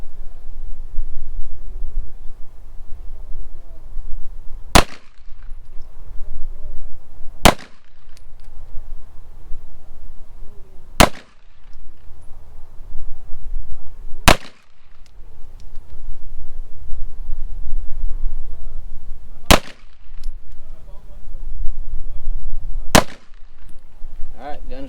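Canik TTI Combat pistol fired at an indoor range, six sharp single shots spaced a few seconds apart, loud and close over a steady low rumble of background noise.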